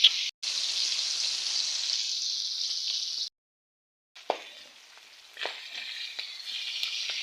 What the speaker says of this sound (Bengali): এই যে বাবা কট করে ফুটছে, প্রচুর পরিমাণ চর্বি হওয়ার কারণে মনে হয় ফোটে এভাবে